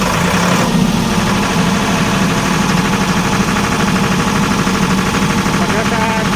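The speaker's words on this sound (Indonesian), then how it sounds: "Kemudian langsung saja kita runningkan mesin genset ini dengan menggunakan tombol hijau." A diesel generator set at a power plant fires up and keeps running, a loud, steady, close engine drone with a continuous low rumble and vibration.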